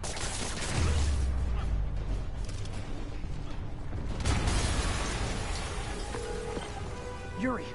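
A video-game explosion booms with a deep blast and rumbling debris, followed by a second heavy burst midway and crackling aftermath, while in-game characters speak.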